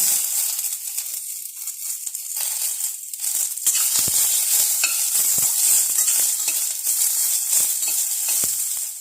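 Onion dropped into hot oil with curry leaves sizzles loudly and steadily, with crackles and stirring scrapes over a dense frying hiss.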